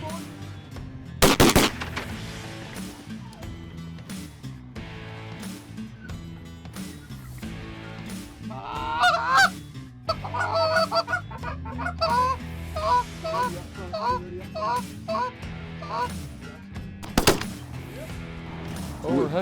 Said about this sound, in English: Oh, we're hunting geese, I think.